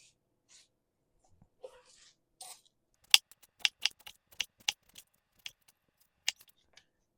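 A knife cuts organic oranges in half on a kitchen board, giving a quick series of crisp, close slicing snaps and taps over about four seconds, with a few softer rustles before and after.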